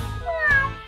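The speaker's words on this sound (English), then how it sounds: "It's a kitty cat." A single close, clear cat meow rising and falling over about a second, with no talking.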